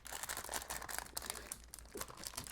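Crinkling plastic wrap being pulled off a Z790 Aorus Pro X WiFi 7 motherboard, a busy stream of close, faint crackles and rustles with no talking.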